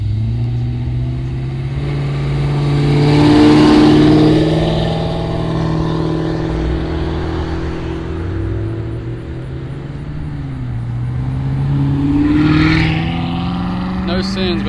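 A car engine revs and swells past at a Fairfield, Ohio cars and coffee meet, its loud engine rising and fading twice under excited crowd chatter.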